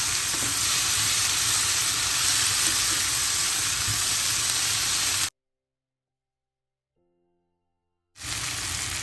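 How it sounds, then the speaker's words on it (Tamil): Curry chillies, onion and tomato sauté in a pan, a dense, loud, steady hiss of sizzling that breaks into silence for a few seconds, then resumes. "கறிமிளகாயை சேர்த்துட்டு இந்த தக்காளியை சேர்ப்போம். இது மூன்றும் கொஞ்ச நேரம் வதங்கட்டும்."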